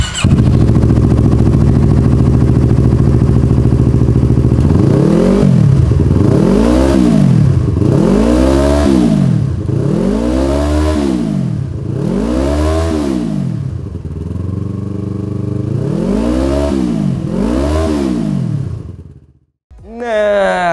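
A Yamaha MT-25 motorcycle with a loud K20 Racing Performance aftermarket exhaust revs repeatedly, about six rising and falling throttle blips in a row, close and deep, then cuts off sharply.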